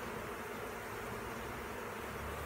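A honey bee colony hums steadily as its hive is cut out of a structure, a faint, even buzz that persists throughout with no talking.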